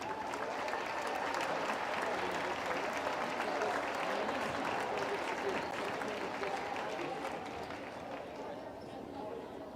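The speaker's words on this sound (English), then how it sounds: "And a final round of applause for all of our 24-25 winter sports seniors and their families." A large crowd at a high school boys' varsity basketball game applauds and cheers steadily for the winter sports seniors and their families, a dense, sustained wash of clapping that fades slightly toward the end.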